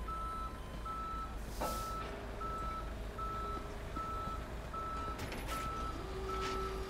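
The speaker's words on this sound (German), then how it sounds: "Aber der Abschlepper ist schon cool gemacht." Steady, evenly spaced reversing beeps from a tow truck in the video game Police Simulator: Patrol Officers, about a dozen regular pulses over a low engine rumble, with a brief hiss of air brakes partway through.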